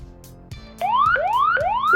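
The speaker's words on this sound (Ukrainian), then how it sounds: "При довгому нажиманні включається сирена." A Quansheng UV-K5 handheld radio sounds its siren function: a loud, near electronic wail that rises in repeated sweeps, about three cycles in quick succession, after a few faint clicks of button presses.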